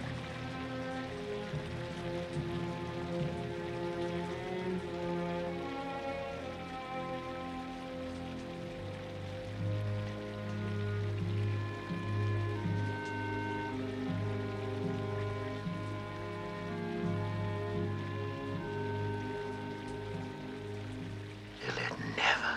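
Steady rain patters on a surface throughout, a continuous wash of drops under a low tonal hum, with a brief louder disturbance near the end.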